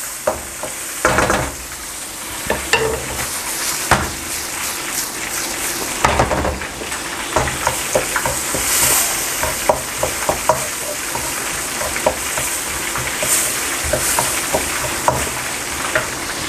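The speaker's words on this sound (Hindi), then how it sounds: "2 टेबल स्पून केचप, बस इसको 2 मिनट तक फ्राई करना है।" Vegetable fried rice with ketchup frying in a pan makes a loud, continuous sizzle, with frequent scrapes and clanks as a spatula stirs it.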